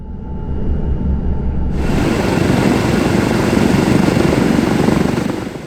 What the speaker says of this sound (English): So now we are stopping the number 3 engine and we are checking that the number 2 hydraulic pump is also working.